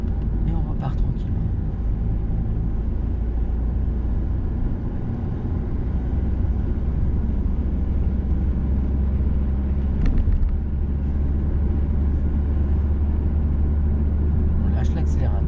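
A car pulls away and drives on during a driving lesson, a low steady engine and road rumble running throughout beneath the instructor's calm speech.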